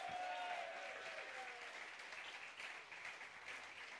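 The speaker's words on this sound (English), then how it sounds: "Let's just give them a round of applause to start off with." A live audience at the 2018 Petfringe CotY final applauds steadily throughout, a dense mid-distance wash of clapping with a faint whistle or voice near the start, then gradually easing.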